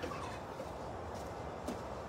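Chickens on a farm make faint, distant clucking calls, barely rising above a steady wash of outdoor background noise.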